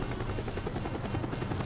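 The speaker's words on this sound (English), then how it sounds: "How am I supposed to land the chopper?" A helicopter in Call of Duty: Black Ops, aboard the Rusalka ship mission, thrums with a continuous rotor chop and engine roar, steady and close, with no talk over it.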